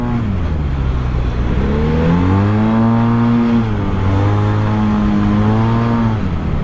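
A Yamaha TMAX 530 DX maxi-scooter engine accelerating at full throttle, loud and close, its droning tone climbing steadily in pitch, dipping briefly, then rising again over continuous wind and road noise.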